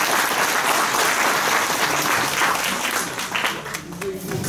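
An audience claps steadily and densely at a commemoration program for Hacı Abdullah Halife and the martyrs; the applause stays loud and full, thinning slightly near the end as a voice begins to speak over it.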